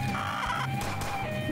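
A freshly hatched chicken in the game Henry Stickmin Collection clucks steadily over a looping game music bed, close and clear.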